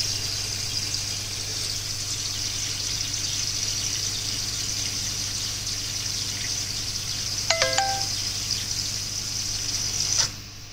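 A fill valve runs water into a koi pond with a steady, even rush and a low hum beneath it; a couple of brief high squeaks cut through near the end, with no talking.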